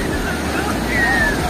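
Sea waves breaking on the beach at Puri, a steady rushing surf with wind buffeting the microphone, continuous and fairly loud with no talk.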